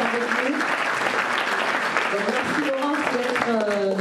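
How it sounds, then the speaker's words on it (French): An audience applauds steadily and loudly at a gathering, continuous clapping with voices calling out and speaking over it. "Et je vous applaudir Laurence qui est avec nous."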